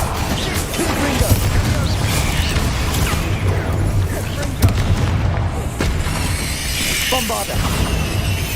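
Confringo blasting curses explode in the Hogwarts Legacy game amid a spell battle, a dense stretch of booming impacts and shattering crashes with sharp hits, while voices sound beneath the din.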